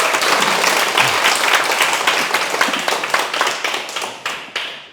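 Audience applause rolls on continuously, dense at first and then thinning into a handful of distinct, fading claps near the end.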